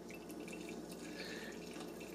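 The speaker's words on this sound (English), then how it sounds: "And we're pouring us some French press coffee." French press coffee poured from a Fellow Clara press, a steady close liquid stream with faint trickling and dripping, alone without talk.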